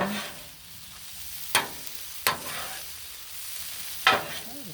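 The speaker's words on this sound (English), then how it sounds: "Give it some more stirring." Sloppy joe meat sizzles steadily on a Blackstone griddle while a spatula stirs it, with three sharp scraping strokes of the utensil on the flat-top standing out over the constant frying hiss.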